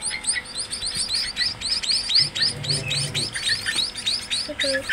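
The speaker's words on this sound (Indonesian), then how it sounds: "perhatikan ini burung yang jantan atau betina" Emprit munia birds chirp rapidly and continuously at close range, a dense flurry of high, thin calls with a faint low rustle underneath.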